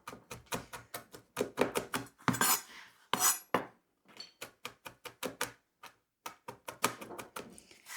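A knife chops chili finely on a cutting board in quick, rhythmic bursts of sharp taps, close and fairly loud, with short pauses between runs of strokes.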